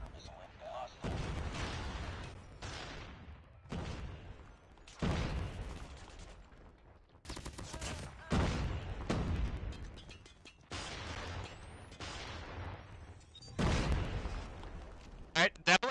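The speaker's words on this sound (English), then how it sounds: "Hostile predator missile inbound." Predator missile strikes and gunfire in a multiplayer hardpoint match of a mobile shooter game: a series of loud, booming blasts and bursts separated by short gaps, with game voice lines over them.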